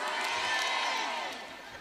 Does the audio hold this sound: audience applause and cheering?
yes